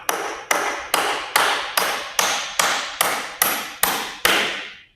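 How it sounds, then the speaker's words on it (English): A 3.25 inch nail is driven into a wooden header with a smooth-faced hammer, ten sharp ringing blows at a steady, even pace, close and loud. "So I'm just going to drive a nail in."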